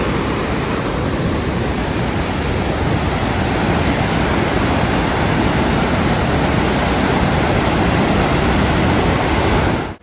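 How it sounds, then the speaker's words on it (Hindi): Roaring, rushing water of the Parvati river in full spate near Kasol, Himachal Pradesh, a dense continuous wash of noise holding steady and loud throughout, with no voices. "ये हमारी पार्वती नदी, और पूरे उफानों पर है पानी।"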